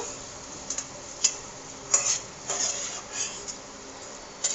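Raisins fry in ghee for bread halwa, giving a soft continuous sizzle broken by intermittent scraping strokes of a spoon stirring in the pan, close by.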